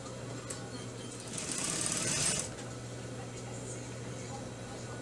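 A sewing machine stitching a simple hem on a silk dress, with a steady motor hum that swells into a faster whirring run for about a second before settling back. Someone talks quietly over it.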